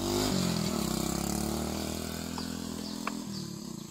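A new motorcycle engine idles close by with a steady, low buzzing drone that shifts pitch briefly near the start and again toward the end.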